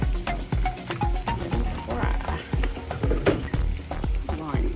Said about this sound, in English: Let those fry for a bit.